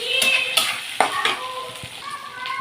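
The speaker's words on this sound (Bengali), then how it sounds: "আমি আগে আলু ভেজে রেখেছিলাম, এবার আলুটা দিয়ে আরেকটু কষিয়ে নেব।" Fried potatoes being stirred into a cooked spice masala in a pan, giving a soft sizzle with a few scraping stirs and knocks nearby, while a faint tone sounds under it.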